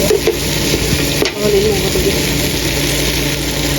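Food in a cooking pot is stirred over steady bubbling and sizzling, with a low engine-like hum underneath and a brief knock partway through.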